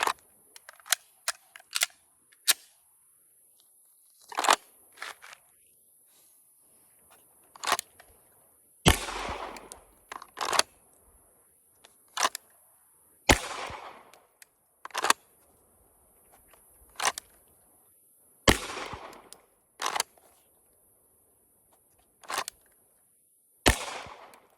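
Pistol shots from a live-fire drill, sharp loud cracks spaced irregularly, some singles and some quick pairs or strings, with quiet gaps and faint clicks between.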